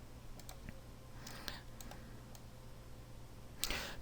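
Several sharp, quiet computer mouse clicks come in a loose irregular sequence over a low electrical hum, with one louder click near the end.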